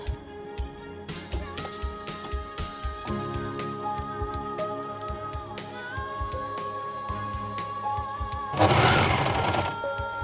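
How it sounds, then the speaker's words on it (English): An overlocker runs along the long edge of fabric for baby pants with straps, a close, steady mechanical whirring with a rapid stitching pulse, rising and shifting pitch, and a brief louder burst near the end. No talking. "Now I overlock it on the long edge as well."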